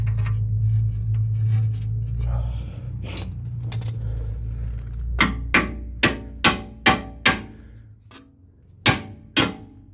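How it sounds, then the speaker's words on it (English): A hammer strikes a tie rod on a BMW X5 E70 during tie rod replacement, after a few seconds of low rumbling. About eight sharp metallic whacks land in quick succession, loud and close, with a short pause before the last two. "just give it a couple good whacks with the hammer"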